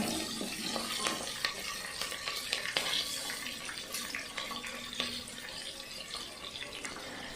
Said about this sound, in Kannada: ನೆಕ್ಸ್ಟು ಕಟ್ ಮಾಡಿರ್ತಕ್ಕಂಥ ಉದ್ದುದ್ದ ಕಟ್ ಮಾಡಿರ್ತಕ್ಕಂಥ ಆನಿಯನನ್ನು ನಾನು ಹಾಕ್ತಾಯಿದ್ದೀನಿ ಪಲಾವ್ಗೆ